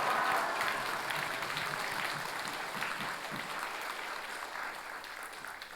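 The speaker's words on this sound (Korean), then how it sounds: "크게 박수를 올려드리십시다" A church congregation at a Sunday service applauds together in a steady, dense wash of clapping that stays fairly faint and even, then slowly tapers, with no voices on top.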